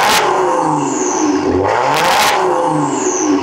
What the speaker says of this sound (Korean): 마세라티 가솔린의 배기음 한번 들려드릴게요